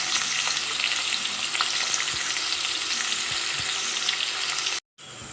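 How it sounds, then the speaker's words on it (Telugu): Chopped onions and green chillies frying in a pan for a ridge gourd and chana dal curry, a loud steady sizzle close up with a few soft stirring taps, cut off briefly near the end. "కొంచెం మగ్గనిద్దాం ఉల్లిగడ్డలు."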